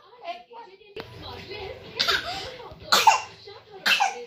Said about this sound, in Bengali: কাশি হচ্ছে, কাশি হচ্ছে,